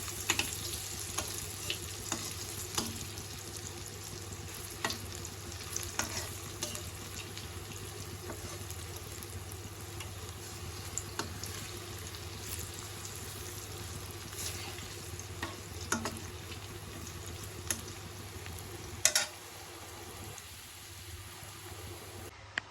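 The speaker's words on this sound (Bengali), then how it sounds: "তো এখানে ডাল বড়া ভাজা হইতে আছে" Lentil fritters (dal bora) made with coriander leaves and onion fry in oil, a faint steady sizzle running for a long stretch with occasional clinks and stirring scrapes, brief rustles near the end.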